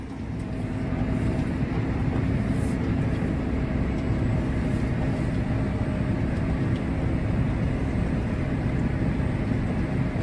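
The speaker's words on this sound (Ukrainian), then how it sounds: "Трактор, щоб ви розуміли, йде в постійну пробуксовку." Heavy tractor engine drone in a snowstorm, the tractor wheels constantly slipping, rumbling steadily and loud throughout, a dense low roar with constant hiss layered over it and no voices.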